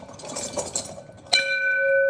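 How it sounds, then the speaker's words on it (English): A sales office bell is struck once for a deal, a bright ringing strike that follows a stretch of murmured room noise and sustains with a clear, slowly fading resonance. "And this here is the bell."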